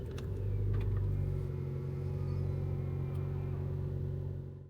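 An Alfa Romeo Giulia with a 4-cylinder engine, in normal mode, drives around town. Its engine hums and rumbles steadily and fairly loudly, with a brief rise in revs early on, then holds an even drone.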